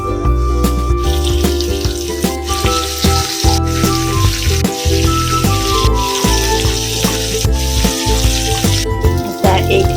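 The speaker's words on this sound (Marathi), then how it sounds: "तुम्हाला आता फ्राय करताना दाखवते" Bangda mackerel fries in a pan with crushed garlic, Konkani and Malvani style, giving a continuous loud crackling sizzle throughout under steady background music.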